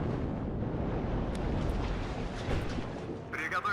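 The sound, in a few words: artillery fire hitting units in the video game WARNO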